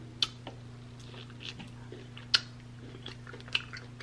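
Someone eats crispy Brussels sprouts by hand, with a few faint, separate crunchy bites and chews. A steady low hum runs underneath.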